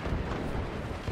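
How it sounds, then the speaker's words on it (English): Missiles fire in the game Forts as a brief, dense, rumbling burst of launches, continuous and fairly loud throughout. "My missiles are just firing themselves."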